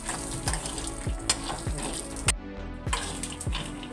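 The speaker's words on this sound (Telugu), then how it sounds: "ఇవన్నీ కొబ్బరి, పచ్చిమిరపకాయలు, శనగెత్తనాలు బాగా వేగాలి." Peanuts, coconut and green chillies fry in a pan for palli chutney with a steady close sizzle, broken by rhythmic scraping strokes as they are stirred.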